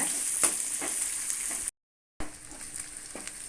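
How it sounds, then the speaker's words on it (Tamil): Onions sautéing with garlic in a pan for a dried-fish curry give a steady, close hiss of frying with soft stirring clicks, broken by a half-second gap of silence midway. "இந்த வெங்காயத்தை சேர்த்தலாம் இது வந்து வதங்கட்டும்"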